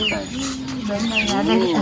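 Chickens cluck and call close by at a farm feeding spot, a few rising and falling squawks over a steady background, with people talking nearby.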